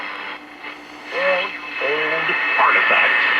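A 1951 Sears Silvertone Model 132 tube radio playing a broadcast voice with a boxy, narrow tone, over a steady faint hiss and a thin high whine.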